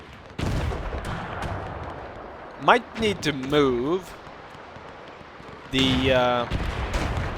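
Broadband booms and cracks of WW1 field guns and cannons firing in the video game Between Empires, irregular and fairly loud, with someone talking over parts of the barrage.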